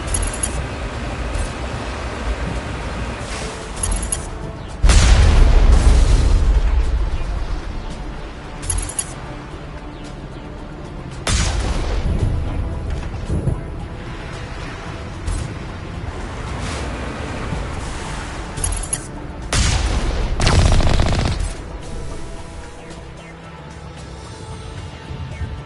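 Artillery fire and explosions in Mass Effect, several heavy booming blasts at irregular intervals with lingering rumble between them.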